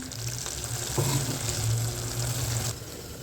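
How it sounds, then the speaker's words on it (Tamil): Tomatoes sauté in oil in a pan for green peas gravy, a continuous dense frying hiss with faint scraping, steady and close throughout, ending slightly quieter. "கொஞ்சம் தக்காளி வந்து நல்லா வதங்கட்டும் தக்காளி வதங்குது"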